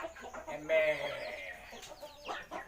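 Fighting cock chickens on a farm give a close, loud cluck and a crowing call over a low background rumble, while someone talks nearby.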